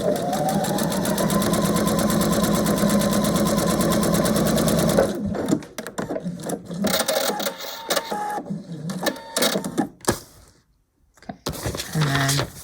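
A sewing machine stitches a pieced quilt block, a fast, loud, even mechanical chatter lasting about five seconds, then stopping, with faint handling and rustling afterwards.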